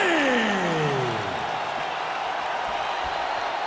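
Capacity arena crowd roaring and cheering in EA Sports UFC 5 at a Bruce Lee heavyweight bout, a dense steady wash of crowd noise with sweeping tones fading early on.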